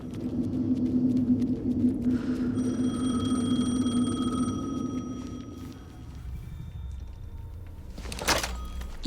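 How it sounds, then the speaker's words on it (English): A telephone rings in the video game Alan Wake 2, repeated electronic trills over a low droning ambience, followed later by a brief sharp thud. "phone again"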